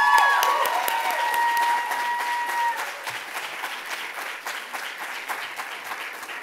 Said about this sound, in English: One last round of applause for all the seniors